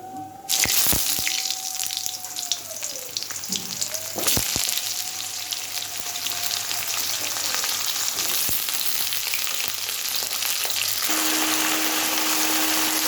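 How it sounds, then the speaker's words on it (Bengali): Washed, chopped vegetables drop into hot tempering oil with coriander seed and radhuni for a Bengali summer curry, setting off a loud burst of sizzling that settles into steady frying, with clinks and a tap-like hiss, and no talking. "এবার কেটে কেটে ধুয়ে রাখা সবজিগুলো দিয়ে দিচ্ছি"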